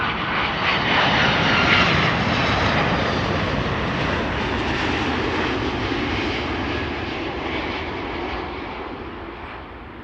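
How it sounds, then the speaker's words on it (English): A Delta Air Lines Airbus A330-300 wide-body jet arriving at Amsterdam Schiphol gives a loud, steady engine roar that swells early, holds, then eases slightly toward the end, with no voices. "Delta Airlines flight 236 arriving from Tampa, Florida,"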